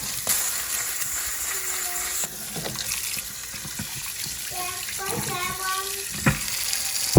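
Tap water runs while freshly picked garden cucumbers and dill are washed, a continuous splashing stream with intermittent clunks and handling sounds, and a brief voice near the middle.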